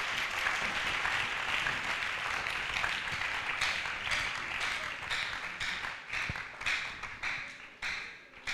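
A church congregation applauds and cheers at a prayer retreat, a dense, sustained wash of clapping that thins into scattered claps near the end.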